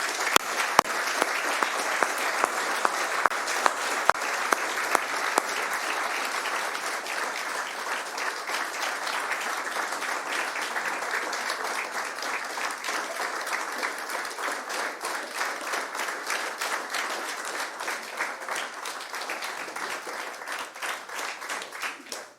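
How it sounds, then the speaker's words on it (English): Sustained applause from a crowd honouring new police officers at a swearing-in ceremony, dense steady clapping lasting over twenty seconds and thinning slightly toward the end. "let's give these guys one final round of applause"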